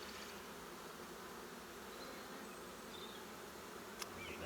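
Honeybee swarm buzzing as it is caught: a steady, faint, dense hum of many wings with a brief louder buzz near the end, no talk.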